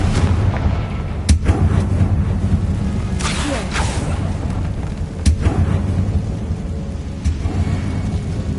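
In Hogwarts Legacy, a Confringo blasting curse sets off heavy booming blasts that land one after another against a constant rumbling backdrop, with several sharp detonations placed through the stretch.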